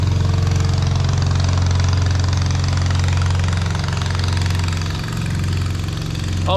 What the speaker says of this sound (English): just get that noisy motorboat past me here